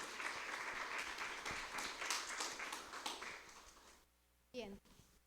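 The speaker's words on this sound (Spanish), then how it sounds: "Brindémonos un fuerte aplauso, por favor." Audience applause at an academic conference, a few seconds of steady clapping that stops abruptly, followed by a brief spoken voice.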